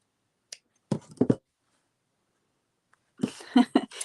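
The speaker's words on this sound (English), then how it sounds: "And another last snip." Scissors snip fabric for a small lavender-filled eco-printed cloth bag, giving a few close, sharp separate cuts in two short groups with quiet gaps between.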